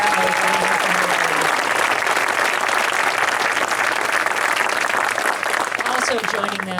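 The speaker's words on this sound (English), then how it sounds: "Could we give them a round of applause?" An audience at a national monument event applauds loudly, a dense, sustained wash of clapping that stays steady for several seconds before easing slightly at the end.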